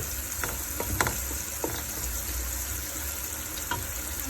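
Sliced green chili, chopped onion and minced garlic frying in oil for a spinach curry, a continuous close sizzle broken by a few clinking stir strokes, no voices.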